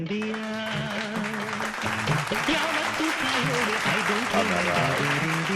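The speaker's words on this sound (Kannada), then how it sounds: "ಹಿಂಗೆ ಚಪ್ಪಾಳೆ ಶಿಳೆ ಹೊಡೆದು ಎಲ್ಲ ಜನನ ಹಾಳು ಮಾಡಿಬಿಟ್ರಿ" A studio audience at a televised quiz show claps in a sustained burst of applause, mixed with prominent tonal voices or music sounding over it for the whole stretch.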